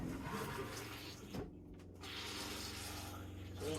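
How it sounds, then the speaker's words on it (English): An RV commode flushes in a steady rush of water that pauses briefly and then resumes, close and fairly loud with no talking. "I even flushed the commode a couple of times."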